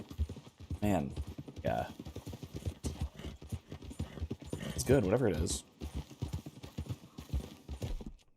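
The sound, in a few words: horse hooves clip-clopping in Red Dead video game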